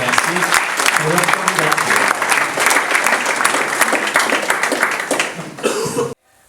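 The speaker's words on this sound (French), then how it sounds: "on peut les applaudir et les remercier pour leur" An audience at a general assembly applauds after a unanimous election, with dense, sustained clapping filling the room for several seconds, a few coughs mixed in, before the clapping thins and stops.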